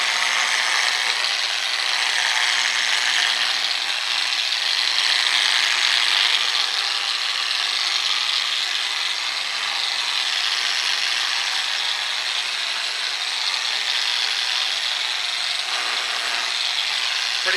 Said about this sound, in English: we're on to the 1000 grit pad